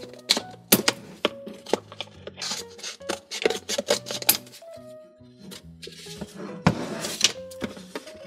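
Toy craft-set packaging being cut open by hand, a series of close, irregular snips, thunks and rustles with scattered clicks, with no voices over it.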